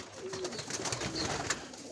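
Wild pigeons cooing softly as they land at a feeding spot scattered with millet and white corn, a low murmuring call amid steady outdoor bustle and fluttering.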